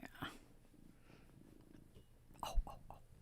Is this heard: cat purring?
yes